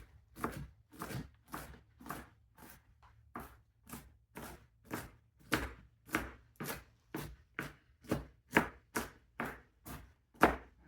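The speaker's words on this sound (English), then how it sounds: "So I'm gonna chop this up a bit." Cabbage being chopped with a knife on a cutting board for egg roll filling, a steady run of about twenty crisp, evenly spaced blade strikes, close and fairly loud with no talking.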